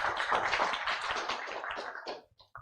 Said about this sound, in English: Now clap loudly.